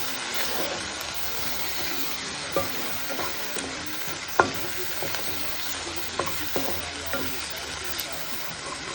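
Steady sizzling and frying of ginger garlic paste and chopped tomatoes in a pan, with occasional scraping and stirring clicks from a utensil, close up, under a continuous hiss.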